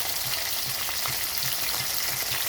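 Fish fries in a pan with a bright, steady sizzle and fine crackle, heard close, along with faint rhythmic stirring or scraping thumps about every half second; no one speaks.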